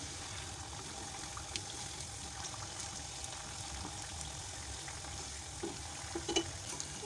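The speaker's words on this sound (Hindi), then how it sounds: "मैं इसे मीडियम टू लो फ्लेम पे फ्राई कर रही हूँ।" Potato and semolina finger chips deep frying in oil over a medium-low flame, soft continuous bubbling sizzle at low level with a few faint clinks near the end.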